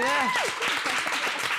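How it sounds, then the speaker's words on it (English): Brief applause for guests on a talk show, fairly quiet and mixed with voices, with a sliding vocal tone at the start and someone speaking over the clapping. "Guys, give them a round of applause."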